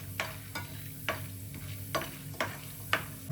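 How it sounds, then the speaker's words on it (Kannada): Chana dal frying and being stirred in a pan, with a steady low sizzle broken by about half a dozen sharp scraping stirs spaced roughly half a second apart. "ಇವಾಗ ಇದಕ್ಕೆ 1 ಸ್ಪೂನಷ್ಟು ಕಡಲೆಬೇಳೆ ಹಾಕ್ಕೊಳ್ಳಿ. ಇದನ್ನು ಫ್ರೈ ಮಾಡ್ಕೊಳ್ಳಿ ಒಂದು 30 ಸೆಕೆಂಡಷ್ಟು"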